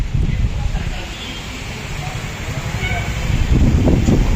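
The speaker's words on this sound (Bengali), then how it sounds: "হাওয়ার কি সাউন্ড" Stormy wind blowing outdoors near coconut trees under a cloudy sky, a steady loud rushing roar buffeting the microphone and swelling stronger toward the end, with no voices over it.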